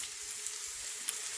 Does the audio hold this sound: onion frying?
yes